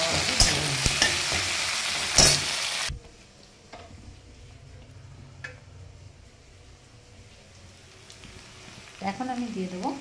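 Onions for a biryani meat dish dropping into a pan, a loud crackling sizzle with stirring clatter at first, then a sudden drop to a quiet simmering crackle, with a brief renewed scrape at the end.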